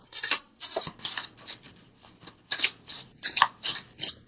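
Oracle cards from a visionary deck being shuffled and drawn, a series of crisp riffling and sliding bursts in an irregular rhythm, close and clear with no talking.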